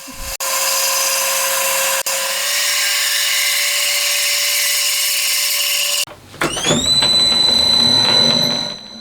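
A drill boring pilot holes in a machined crankcase for a handbuilt 125cc four-cylinder, 16-valve engine: a loud, steady high whine for several seconds, then a brief stop and a shifting, rising tone as cutting resumes.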